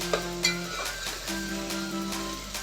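Chopped tomato sautéing in hot oil for Maharashtrian misal pav, a steady close sizzle and frying hiss with a few soft stirring scrapes, no talking.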